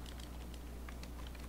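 Someone types steadily on a computer keyboard, entering Arabic text in LibreOffice, with quick, soft irregular clicks up close over a low constant background hum and no talk.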